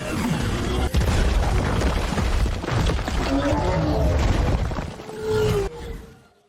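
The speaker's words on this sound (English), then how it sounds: "The mech hits the buildings, the vines snap around it, and then suddenly it's been defeated." Heavy crashing of a giant mech smashing into buildings while vines snap around it: a dense, continuous roar of booms, rumbles and cracks that stays loud throughout, then thins out near the end.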